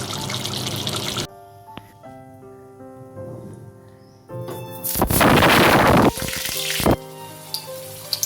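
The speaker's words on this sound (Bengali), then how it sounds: "পটলগুলো ভেজে নিচ্ছি।" Whole pointed gourds, lightly peeled and slit, frying in hot oil in a pan, with a steady sizzle that swells into loud bursts of crackling spatter before easing back down.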